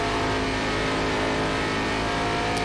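Simulated race car engines from the iRacing game on the 2008 ARCA Series Texas oval roar continuously, a dense loud drone of several cars without pause or gaps.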